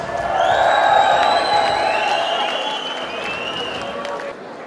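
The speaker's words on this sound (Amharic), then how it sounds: "ጭብጨባ ያስፈልጋል። ጭብጨባ።" A crowd at an Ethiopian sports and cultural federation awards ceremony in North America bursts into loud, sustained applause mixed with cheers and whistles, then gradually fades.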